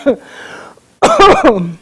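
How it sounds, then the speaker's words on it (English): A single sharp cough bursts out at the start, followed by a low hum and then a stretch of close, strained vocalizing. "coughing is just a reaction to energy shifting"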